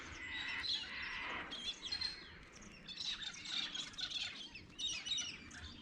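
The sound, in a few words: birds chirping at Bedford Weir at sunrise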